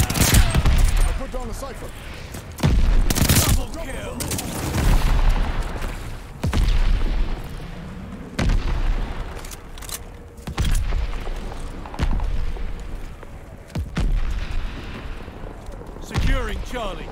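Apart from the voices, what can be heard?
mortar fire and explosions in Call of Duty Vanguard video game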